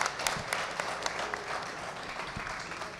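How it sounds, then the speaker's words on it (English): Audience applause at a live podcast show, a steady wash of clapping from a crowd with scattered sharper claps, moderately loud and continuous for a few seconds. "Big round of applause for Greg Connors."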